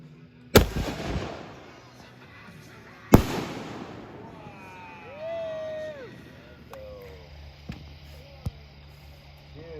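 Fireworks at a lake show burst in two sharp, loud booms early on, followed by fainter crackles and pops, with whistling rising tones between them and people talking and cheering nearby.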